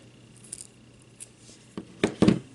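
Scissors snipping a small craft embellishment piece, a few quiet close snips and then louder crisp cuts bunched near the end, with no voices.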